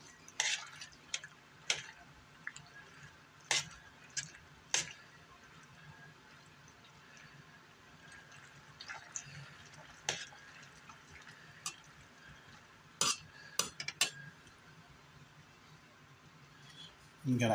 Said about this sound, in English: Mix it in, let it melt.